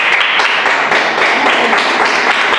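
A church congregation applauds during a Spanish-language sermon, a loud, dense patter of many hands clapping steadily throughout.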